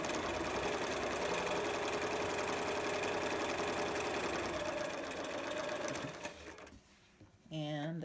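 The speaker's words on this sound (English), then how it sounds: "We're going to sew the curved edge just like what we've done on the other 2 masks. 1/4 inch seam, back stitch," Sewing machine running steadily at close range while stitching a 1/4 inch curved seam on a child-sized fabric mask, a continuous whirring drone that slows and stops near the end before a brief restart.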